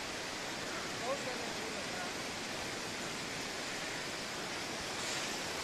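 A rushing waterfall in Nepal gives off a dense, even roar that fills the whole stretch without pause, loud and close.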